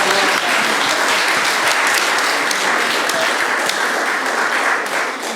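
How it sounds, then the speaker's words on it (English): An audience at a church gathering applauds a presentation, dense loud clapping sustained throughout and fading slightly at the end. "Can we have a round of applause for Julie and her presentation?"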